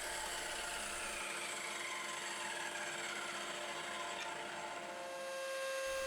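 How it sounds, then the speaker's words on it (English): A drop saw cuts a 45-degree angle into cypress pine edge timber for a chess board, a steady, loud motor whine with a rough cutting rasp that runs the whole length before easing at the end. "so I'm just doing that on the drop saw"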